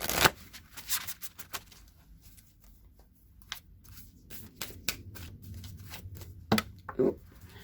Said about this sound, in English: One more shuffle here, and then I'll see what comes out.